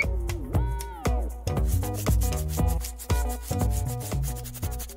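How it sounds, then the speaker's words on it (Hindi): Long fingernails scratch back and forth across someone's back in a steady run of close, dry rubbing strokes, each rasping scrape separated by brief pauses, with no talk. "मेरी पीठ खुजा दो।"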